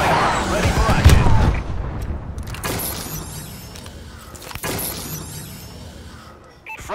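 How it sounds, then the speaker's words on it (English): Heavy explosions from a friendly bombing run boom and shatter in a video game, a dense roar at first that trails off, with further sharp blasts cutting through partway along and near the end, loud and close. "Friendly bombing run clearing the way."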